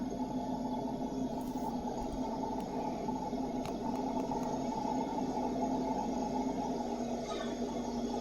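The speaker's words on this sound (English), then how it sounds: "Burner just shut off. Blower is still running." Blower fan of a Doyon JA28G oven keeps running after the burner shuts off, a steady broadband whoosh and hum with a few faint clicks, continuous and close throughout.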